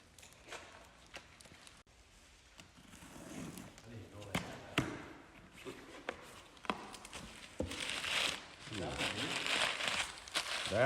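Plastic packaging on new fishing rods and reels crinkles and crackles as it is unwrapped, with scattered sharp taps and rustles, building to louder continuous crumpling near the end.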